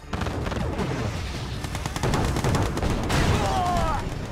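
Rapid bursts of gunfire and booms from a Soviet mission battle in the strategy game Red Alert 2: Yuri's Revenge, dense and continuous throughout, with in-game voice lines mixed in.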